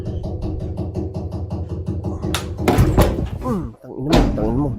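Knocking on a door in a horror video game, a regular series of muffled thumps in the first half, followed by louder slams and voices over them.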